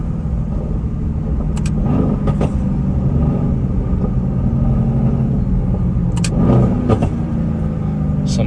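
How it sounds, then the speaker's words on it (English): A car downshifts on the road with a steady engine rumble throughout, and short crackling exhaust burbles stand out at a few moments, loud and close. "Let's get some downshifts in here."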